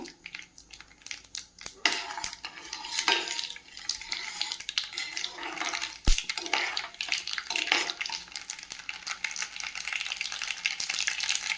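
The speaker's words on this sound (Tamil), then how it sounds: "நல்லா கடுகு பொரிஞ்சு வருது" Mustard seeds spluttering and popping in hot sesame oil for a gooseberry pickle, a dense crackling sizzle with sharp pops scattered throughout, steady and close, with one loud crack partway through.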